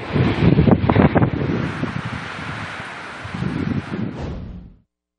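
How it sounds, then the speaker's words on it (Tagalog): Strong typhoon wind from Typhoon Pepito in Catanduanes roars and buffets the microphone with heavy gusts, a broad rushing noise that surges, eases, swells again and then cuts off abruptly. "Inihampas ang malakas itong hangin sa lahat ng madadaanan na sinabayan pa ng walang tigil na buhos ng ulan."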